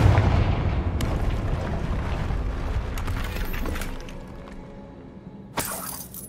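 A Confringo fire spell explodes in Hogwarts Legacy, a loud broad blast with crackling debris that fades over several seconds, followed by a sharp bright burst near the end.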